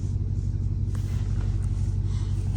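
Low, steady rumble of a Dodge Charger Hellcat engine idling close by, a continuous deep drone with faint higher noises and no talk over it.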